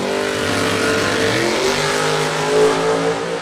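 A Camaro drag car at a drag race accelerates hard down the strip, its engine roaring loud and continuous with rising harmonic pitch throughout.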